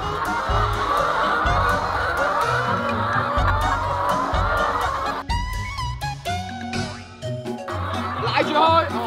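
Dense flock of many chickens at a chicken farm, a continuous loud din of overlapping clucks and squawks, with a brief quieter stretch midway and a person's voice occasionally heard.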